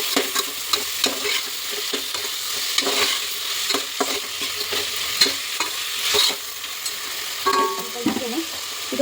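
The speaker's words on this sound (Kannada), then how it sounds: "ಚಿಕನ್ ಹಾಕೊಂಡಿದ್ದಾದ್ಮೇಲೆ ಒಂದು ಸ್ವಲ್ಪ ಇದನ್ನು ಫ್ರೈ ಹಾಕೋಣ" Chicken pieces sizzle in a hot pan for chicken saaru, with a steady frying hiss broken by repeated scraping strokes of a spoon stirring the meat, close and moderately loud.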